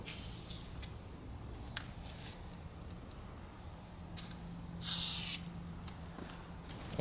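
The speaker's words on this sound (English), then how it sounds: "get some silicone spray and spray it in here so we can lubricate it a bit" A short, steady hiss of silicone spray bursts out for about half a second into a Honda Civic car window track against a quiet background with faint scattered clicks.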